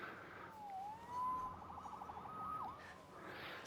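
A video game police siren wails in rising and falling sweeps, moderately distant, over a low background hum.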